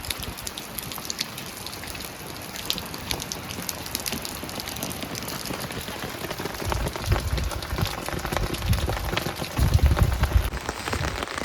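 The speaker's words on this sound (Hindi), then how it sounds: "यहाँ पे कल से कंटिन्यूस इतनी ज़्यादा बारिश हो रही है" Heavy rain falls continuously in a village, a dense steady patter on surfaces that grows louder and heavier toward the end.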